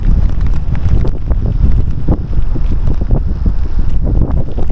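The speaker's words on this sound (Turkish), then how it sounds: "Oo, rüzgara bak." While cycling, strong wind buffets the microphone in loud, gusty, low roaring bursts that continue without a break, with no voices.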